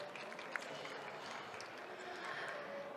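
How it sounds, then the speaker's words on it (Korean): An audience at a startup pitch competition gives a round of applause after a presentation, a soft, diffuse, steady patter of clapping from a room of listeners. "멋진 발표 진행해주신 바이오션에게 큰 박수 부탁드리겠습니다."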